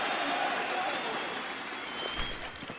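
Arena crowd at a Counter-Strike showmatch between FaZe and Cloud9 at BLAST Pro Series Lisbon 2018, cheering and clapping in a dense, steady roar that eases slightly toward the end, with a voice talking over it.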